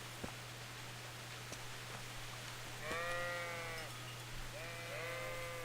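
Sheep bleating in the video game Kingdom Come Deliverance, two clear drawn-out bleats in the second half over a quiet low hum and faint rustling ambience.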